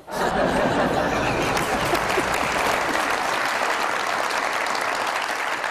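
A studio audience applauding at a comedy show, a loud dense wash of clapping that starts suddenly and carries on steadily throughout, with faint laughter mixed in.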